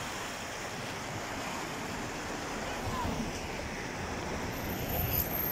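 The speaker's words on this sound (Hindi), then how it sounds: "ये रेन वाटर है मदीना मुनव्वरा की साइड एरिया में।" Fast-flowing rainwater rushes through a stream beside a road near Medina after heavy rainfall. It gives a soft, continuous wash of broadband water noise, faint and distant, that builds slightly toward the end, with some wind buffeting.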